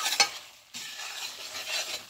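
Besan and sugar syrup are stirred together for barfi, with soft scraping and sticky stirring strokes, a brief pause, then continued close stirring with faint sizzle.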